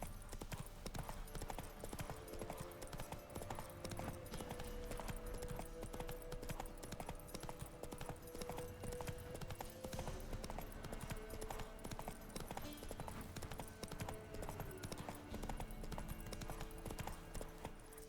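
Horse hooves clip-clop in a steady trotting rhythm across the whole stretch in The Witcher 3, a game mount moving at a sustained pace with faint background music and ambience beneath.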